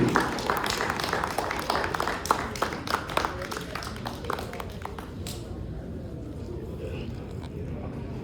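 An indoor audience in Ipoh applauds a speaker being welcomed, a busy spread of clapping for about five seconds that fades into room noise and murmur.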